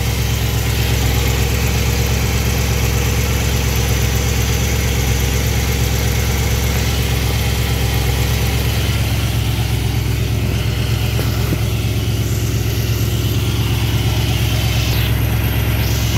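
A car engine idles steadily with ignition timing set at 12 degrees advance, a constant loud low rumble and mechanical hum with no talk over it.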